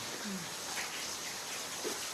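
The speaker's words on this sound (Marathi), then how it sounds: "पाऊस भेटला मला आता थोडा" Rain falls outdoors as a steady even hiss, with faint background sounds and no clear talk.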